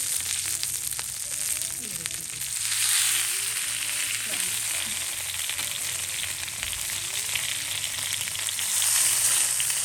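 Chicken fries on a tawa at a Pakistani street food stall, producing a loud, dense sizzle that swells and hisses throughout. Faint stirring sounds and scraping come from close by.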